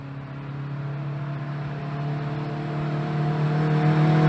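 A car with a turbo engine and exhaust drives by, its steady engine drone rising gradually in loudness as it approaches.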